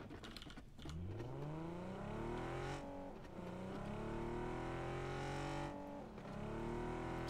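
A car drives and revs in PUBG, its engine tone rising and falling through gear shifts, loud and steady with no talk over it.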